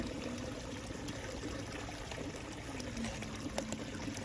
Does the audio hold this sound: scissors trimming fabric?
no